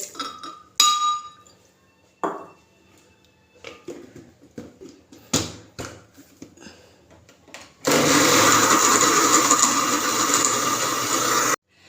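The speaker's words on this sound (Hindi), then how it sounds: "अब इसको हम लोगों ने ग्राइंडर में डालेंगे।" A mixer grinder blends ginger garlic paste with a cup of creamy full-fat milk for an egg korma. A few light clinks and knocks of the jar come first, then a loud, steady whirring roar runs for about four seconds and cuts off.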